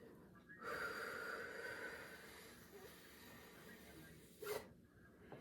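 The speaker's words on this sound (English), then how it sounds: "breathe out for this part through the mouth" A person breathes out slowly through the mouth in one long, soft, airy exhale in a quiet room, followed by a short, sharper puff of breath near the end.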